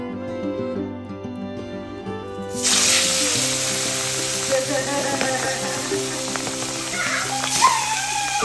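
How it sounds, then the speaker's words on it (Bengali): Fish rubbed with salt and turmeric sizzles as it hits hot oil in a pan, a sudden steady frying hiss that stays loud and continuous over a kitchen background with faint background tones. "পরিষ্কার করে নুন হলুদ মাখিয়ে প্রথমে মাছটাকে ভেজে নেব"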